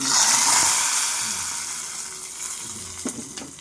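Hot oil with mustard seeds, curry leaves and dried chillies sizzles and crackles loudly at first, then eases to a steady hiss with a few sharp pops near the end.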